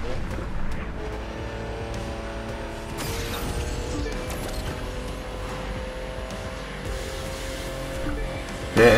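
A car engine in The Crew racing video game drones steadily with shifting tonal whine and mechanical rattles, moderately loud throughout, ending with a brief louder burst.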